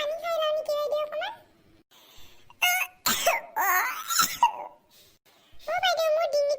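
A voiced cartoon character in an Assamese comedy coughs in a few harsh bursts between stretches of high, childlike speech.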